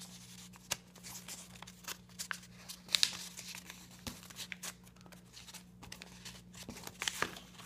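Paper or card spirit prop folded over at the end: soft, close crinkling and scraping with scattered small crackles and taps, quiet and continuous without speech.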